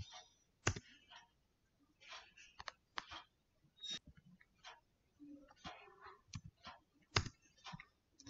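Sharp, dry mouse clicks tick off irregularly while a Java package is created in a Spring Boot project, some singly and some in quick pairs, with quiet gaps and faint murmuring between them.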